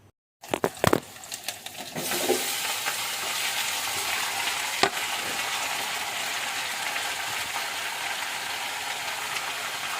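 Peeled cucumber pieces for dal tossed into a hot pan, with a few sharp clatters at first, then a steady broad sizzle and rustling stir that carries on, close and loud, with no talking.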